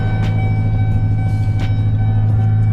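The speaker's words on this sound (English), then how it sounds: "It's the noise of the truck is not happy." A Chevy truck engine running rough after an injector change idles with a loud, steady low rumble and hum, uneven underneath, up close with no talking.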